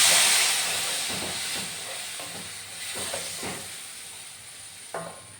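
Hot water poured into an anchovy pickle in a hot pan, giving a loud, broad steaming hiss that starts strong and slowly fades, with a few soft clinks and stirring scrapes toward the end.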